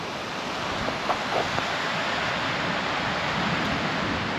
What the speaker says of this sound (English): The river's making quite a lot of noise in the background